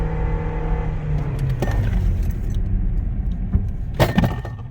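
A car floored from low speed up to 40 mph to bed in freshly installed brake pads and rotors, a steady loud engine and road roar running throughout with a few sharp clicks and knocks near the end.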